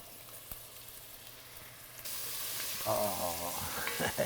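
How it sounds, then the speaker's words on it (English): Chicken cacciatore ingredients with fresh thyme and black olives being sautéed in a pan, a faint sizzle that swells louder halfway through as food is stirred, with light clinks and scraping. "The guy gotta saute the rest of the stuff over here."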